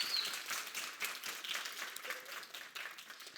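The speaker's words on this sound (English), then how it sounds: "please give a round of applause for our judges" Audience applause for the judges at a 2025 YHS challenge presentation, a steady spread of clapping from the crowd lasting the whole moment at moderate, even level.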